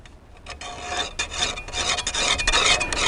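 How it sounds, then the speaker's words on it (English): A Speedy Sharp sharpener rasps in quick, repeated strokes across the well-used steel blade of an old wheel hoe, close and dry. "you can sharpen this with a Speedy Sharp"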